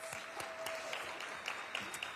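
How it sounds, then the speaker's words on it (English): Applause from an audience at a Philadelphia officials' event announcing plans for America's 250th birthday: a fairly faint, steady patter of many hands clapping, continuing throughout. "A round of applause for Amy and Vince."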